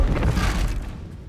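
A red barrel bursts in Hogwarts Legacy with a heavy low boom and crackling debris that fades out over about a second, loud and close with no talking.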